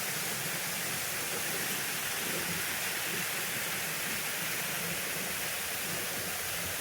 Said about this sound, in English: I made it up here to the waterfalls.